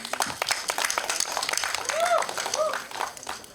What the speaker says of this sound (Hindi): नवीन प्रकाश जी के लिए जोरदार तालियां हो जाएं।